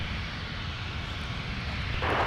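A jet airliner spools up for takeoff on runway 17 at Minneapolis–St. Paul airport, a steady broadband engine roar filling the whole clip and swelling louder near the end.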